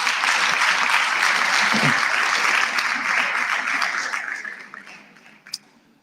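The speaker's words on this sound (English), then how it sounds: "Let's give a round of applause to the leadership of SAFETSA." An audience at a national student council induction applauds its leadership with broad, sustained clapping that holds strong and then fades away toward the end, with one last stray clap.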